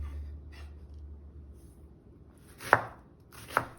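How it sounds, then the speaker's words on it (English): A knife chops white mushrooms on a board: two sharp, distinct cuts near the end, the second a little softer, after a quiet stretch with only a faint low hum. "When it comes to chopping up the white mushrooms, there's no need to be perfect, just roughly chop them up until they're all in small bits"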